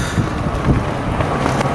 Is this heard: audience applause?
no